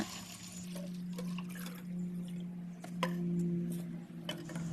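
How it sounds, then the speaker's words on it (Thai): Water is poured into a container to mix with wood ash from a grill, giving a steady low splashing pour with small drips and clinks over about five seconds. "ขั้นตอนแรกเทน้ำลงไปในภาชนะ"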